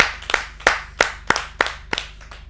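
Sparse, uneven hand claps from a small audience at a Hindi poetry gathering on a television show, about seven sharp claps spaced roughly a third of a second apart, close and fairly loud.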